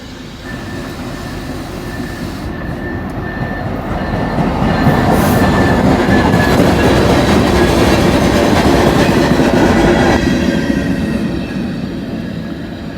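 A short train rolls past close by, a steady loud rumble of wheels on rail that swells, holds, then eases off, with no voices.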